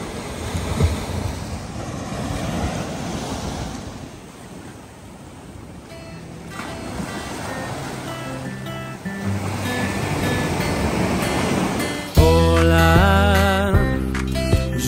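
Sea waves breaking on the shore in Calabria, Italy, with a continuous rushing surf and wind buffeting the microphone, swelling and receding, joined near the end by a louder burst of tonal sound.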